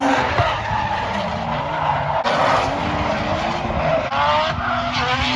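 A drift car slides with continuous, loud tire squeal and a roaring engine, the skid holding steady throughout with brief surges, close and alone without talking.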